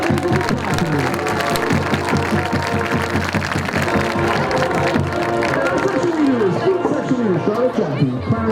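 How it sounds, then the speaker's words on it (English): A crowd at a marching band community night applauds the drum majors and captains, scattered clapping mixed with loud overlapping chatter and voices close by. "Give a round of applause to our drum majors and captains."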